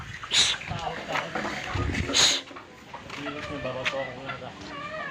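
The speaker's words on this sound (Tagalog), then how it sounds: "Nako, lumabas na yung nangingitlog." A laying hen clucks outdoors close by, a few sharp bright calls early on over a rustling, busy background, with people talking through much of it.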